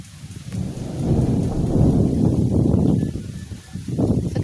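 A storm at a camping spot with wind and rain: a heavy rumble of thunder swells and rolls on for several seconds over steady rain hiss, close and loud, then eases before rising again.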